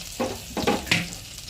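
Butter melting in a frying pan over lowered heat, with a soft sizzle and three short scraping stirs in quick succession, close and fairly quiet with no talking.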